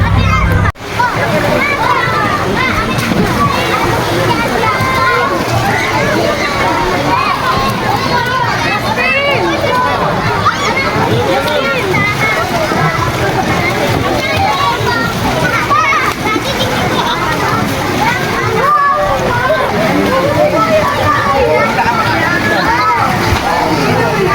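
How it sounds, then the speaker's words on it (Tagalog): Water splashes steadily in a beach resort swimming pool while children shout and play close by, a busy, continuous wash of sloshing and chatter lasting throughout. "Dito po yung swimming pool ng Casa Española."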